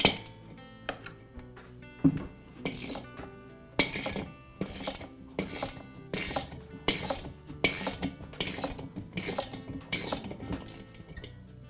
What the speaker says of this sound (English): Now I'll use a socket wrench to remove the check valve from the tank.